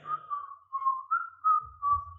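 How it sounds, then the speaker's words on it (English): A person whistles a short, wavering tune alone and fairly close, in a few connected phrases, with a faint low rumble near the end. "just whistling, walking away."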